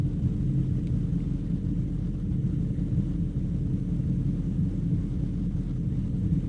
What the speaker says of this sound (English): Engine's running differently because compressor, the clutch is engaged.